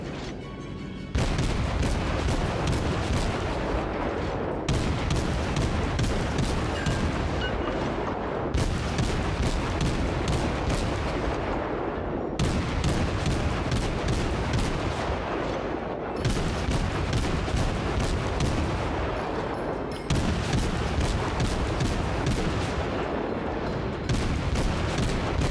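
Warship main guns in World of Warships firing at a destroyer, heavy booming salvos that recur roughly every four seconds, each followed by a long rumbling roar, loud and continuous throughout.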